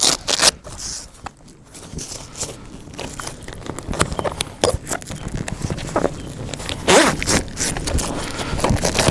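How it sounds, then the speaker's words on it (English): Velcro strips rip apart and a zipper is drawn open along the sides of a Bestop Supertop 2 removable truck bed topper, giving a series of close, scratchy tearing and zipping bursts with soft handling noises between them. "You just unvelcro and unzip on both sides like this."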